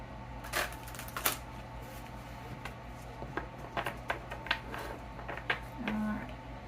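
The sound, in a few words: shuffling a large tarot card deck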